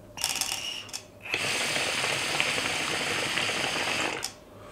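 Water bubbling steadily through an overfilled shisha base from a budget Wish hookah as air is drawn through the pipe, a continuous close gurgling hiss that starts after a brief pause and runs for about three seconds before cutting off.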